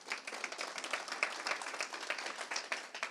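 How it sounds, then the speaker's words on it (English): Dense audience applause at a business keynote talk, many hands clapping steadily and fairly close for the whole stretch, no voices over it. "Round of applause for those guys."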